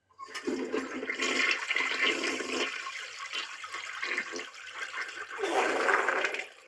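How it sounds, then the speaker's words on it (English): A toilet flushes loudly in an animated scene, with a long rushing, swirling gush of water that surges again near the end before cutting off. "I flushed him down the toilet, of course."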